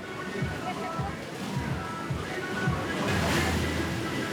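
Ocean waves surge steadily against coral rock on the Colombian Caribbean coast, a loud continuous wash with wind, the surf swelling stronger toward the end.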